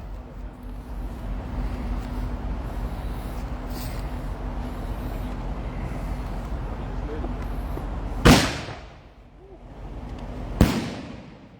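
Large MNF firework shells launched outdoors: a steady background roar followed by two sharp, loud bursts a couple of seconds apart.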